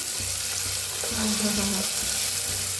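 Garlic and onion sizzle and crackle steadily in hot oil for a tempering, with a few soft stirring scrapes in the pan.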